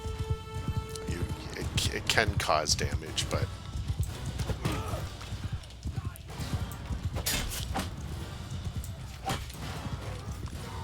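Hooves clatter from a horse ridden into low-level troops in the video game Mount & Blade 2: Bannerlord, with rapid galloping under combat clatter and someone talking over it.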